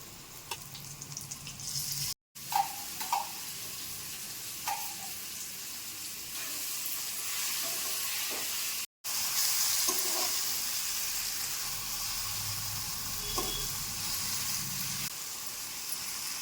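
Ivy gourd chutney fries in a pan with a faint, steady sizzle. Soft stirring clinks and scrapes come now and then across the stretch, with no talking.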